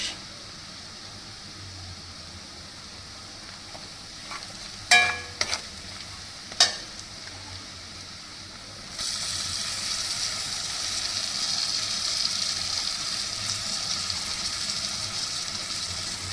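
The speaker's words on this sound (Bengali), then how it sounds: "আনারসটা দিয়ে দিচ্ছি আনারসটা দিয়ে আবার কষাতে থাকবো" Pineapple stir-fried with spices in a pan for a hilsa fish curry: brief scraping stirs around the middle, then a steady loud sizzle in the second half, with no talking.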